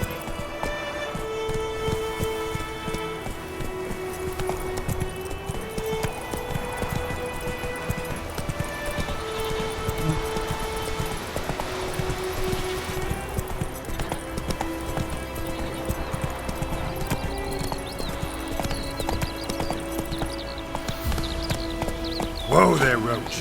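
Roach, Geralt's horse in The Witcher 3 game, gallops with steady rapid clip-clop hoofbeats throughout, set against a dense layered orchestral score and some speech, with a brief whinny-like cry near the end.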